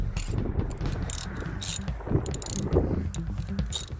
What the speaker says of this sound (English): now we're going to need the socket and the ratchet